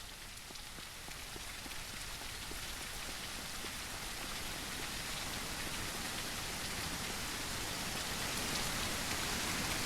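Dense, steady rainfall pattering across surfaces in the zombie survival game Surroundead, a constant close hiss that swells slightly louder toward the end, with no voices.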